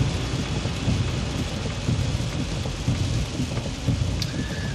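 Steady rain patters on a surface with low rumbles of thunder rolling underneath, continuous and fairly close, no voices.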